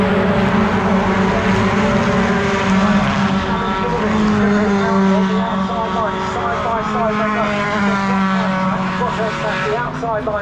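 Pickup trucks racing on the final lap at Brands Hatch, engines roaring loudly and continuously with shifting pitch as they pass, under a race commentator's talk.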